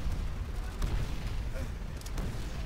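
Grenade explosions and gunfire in Call of Duty: World at War, a dense rumbling barrage of booms and shots that carries on continuously with no clear breaks.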